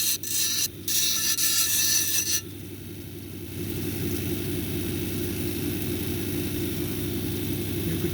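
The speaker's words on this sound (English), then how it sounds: "Let's go continue with the 80 grit wheel." Owyhee jasper is ground into a cabochon on an 80 grit wheel. A loud, close scraping rasp of stone on the wheel comes in bursts, then gives way to a steady motor hum with a lower rubbing grind.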